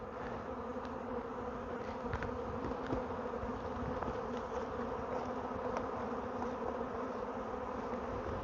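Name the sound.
honey bees buzzing around hive frames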